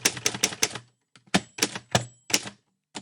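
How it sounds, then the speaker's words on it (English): Typewriter sample played back in an audio plugin demonstration: a quick burst of sharp key strikes, then a short pause and several more clacks with a bell-like ring, crisp and close with no voices. "So this is just a sample of a typewriter."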